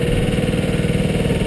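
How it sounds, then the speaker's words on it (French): Hydraulic motor on a Scania truck's low-loader trailer running steadily, a loud close continuous mechanical hum with a fast pulsing throb and no one speaking. "On met en route le moteur hydraulique."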